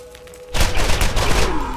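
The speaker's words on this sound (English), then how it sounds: "we also got a really cool gun. This one shoots fire bullets" A fire-bullet gun in the Borderlands video game fires a rapid, dense burst of loud shots that starts abruptly after a brief quiet lead-in and keeps going to the end.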